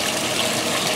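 Speed Queen washing machine filling with water, a loud, steady rushing gush of inflowing water, close and continuous with no pauses or voices.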